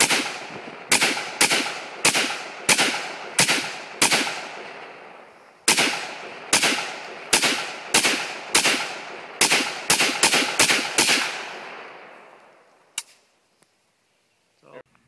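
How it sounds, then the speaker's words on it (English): An AK-47 rifle fires at a homemade bullet-resistant mask outdoors, about twenty loud, sharp single shots in an uneven rhythm, each echoing off, with a pause midway and a faint scrape and quiet after the last shot. "He's going to destroy the rest of the mask with an AK-47."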